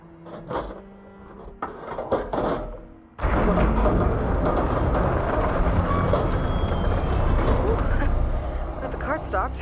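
An old rail cart rolls along worn tracks in Horizon Forbidden West, first with a few clanking knocks, then a steady loud rumbling, rattling roll that continues to the end.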